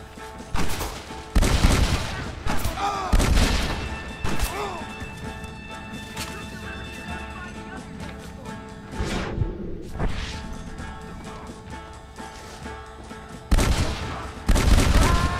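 Gunfire in the video game Red Dead Redemption: loud, close shots come in heavy bursts and scattered single cracks over a steady, tonal game soundscape, with quieter stretches between volleys and a final flurry of blasts near the end.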